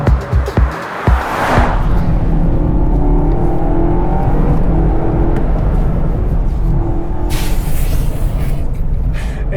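BMW M5 engine revving up to around 5,000 RPM, a loud sustained rising roar heard from inside the car after a few brief knocks.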